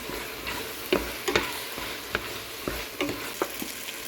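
Soya meat curry mixture being stirred in a pan, a rhythmic series of spoon scrapes and taps roughly every half second over a low continuous sizzle, close and without voices.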